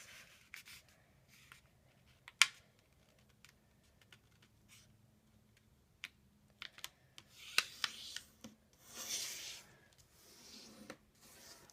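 An origami envelope being folded from paper: soft, sparse crinkles, rubs and sharp creasing snaps close by, mostly quiet between them, with a denser rustle of handling near the end; no talking.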